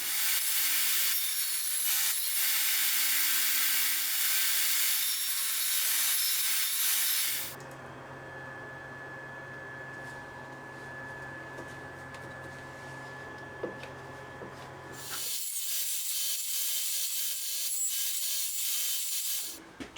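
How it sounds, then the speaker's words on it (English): A blade on a sled widens an existing slot in wood for a guitar neck joint, with an MDF sled. A loud, steady rasping grind changes tone partway through and runs almost without a break, with no talking. "when you are using a blade to widen an existing slot"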